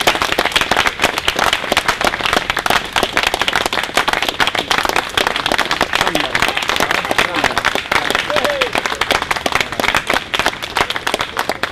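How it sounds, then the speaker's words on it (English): Applause for striking college teachers' supporters at a rally, a dense crowd clapping steadily and loudly throughout, with some voices mixed in. "So let's have a round of applause for that support there."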